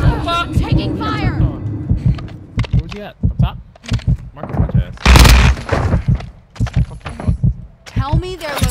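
Gunfire in the Call of Duty Modern Warfare video game, with bursts of shots and a loud burst about halfway through, mixed under frequent excited talk from players.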